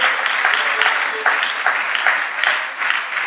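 A church congregation claps loudly and steadily throughout, a dense close wash of applause with rhythmic swells.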